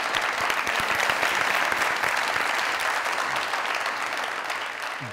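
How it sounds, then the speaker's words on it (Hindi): Studio audience on a Pakistani comedy talk show breaks into loud, dense clapping that stays strong, then eases slightly toward the end, with no one speaking. "जोरदार तालियां"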